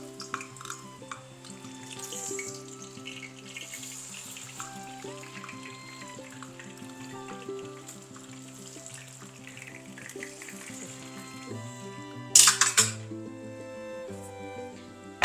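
Oil foaming and bubbling up in a deep pan as karapusa fries: a continuous sizzling bubble under tonal background music, with a brief louder burst of splashing near the end.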